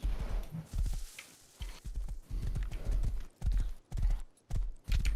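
Video game horse hooves clip-clop in a fast, steady rhythm, the galloping beats close and continuous with brief gaps, no talking over them.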